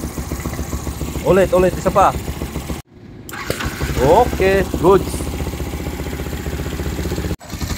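A Yamaha Sniper MX135 motorcycle with a replaced block and head, new valves and a 72 mm piston, cranks and starts twice, then settles into a steady, loud idle close by while someone speaks briefly over it.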